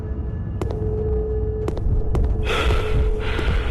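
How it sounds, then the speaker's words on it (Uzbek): The Huggy Wuggy character in a horror video game breathes heavily, a low, rumbling snorting sound broken by a few sharp clicks, with a harsher, louder breath swelling near the end. "Odam mana qattiq nafas olib chiqaryapti."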